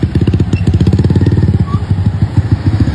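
Several motorcycles idle and rev close by in a crowded motorbike parking area in Jakarta, a loud, continuous pulsing engine rumble with no talk.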